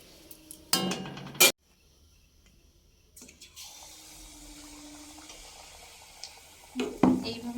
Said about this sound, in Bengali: এইভাবে রসের মধ্যে, ফুটন্ত রসের মধ্যে একটা একটা করে ফেলে দেবো